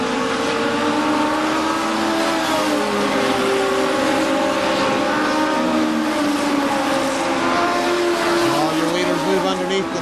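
Race cars circle the dirt oval at KilKare Speedway, engines droning loud and continuous with overlapping revs as the pack passes, while a track announcer calls the race over the noise.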